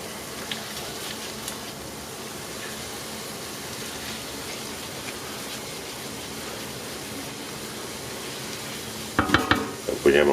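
Verdina beans and oil sizzle and fry steadily in a pan, a continuous close crackling hiss, with a few louder scraping stirs near the end.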